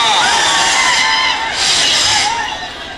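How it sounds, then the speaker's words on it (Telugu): A large outdoor crowd at a Telangana political rally in heavy rain cheers and shouts loudly, with a swelling roar of many voices that stays steady throughout. "మీరు దయచేసి చప్పట్లతోటి మా అందరి కూడా ఆశీర్వాదం దొరకాలని చెప్పి"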